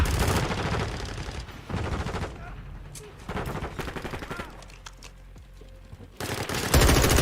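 Gunfire from Modern Warfare 2 multiplayer gameplay, heard as bursts of automatic fire separated by quieter gaps, loud and close, with talking mixed in.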